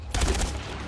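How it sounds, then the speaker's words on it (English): A short, rapid burst of gunfire in Far Cry 4 rattles off, quick shots blending together at moderate loudness, with no voices. "Gunfire nearby."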